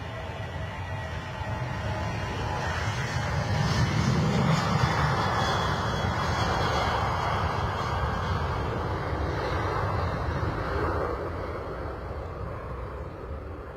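A full passenger jet rolls down the runway at London Stansted on its takeoff to Alicante, a broad, sustained engine roar that swells and then slowly fades as it departs, with no voices.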